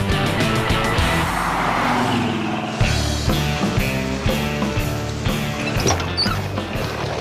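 A 1968 Pontiac GTO's big V8 engine roars as it accelerates, its deep pulsing rumble rising and shifting through revs, loud and close.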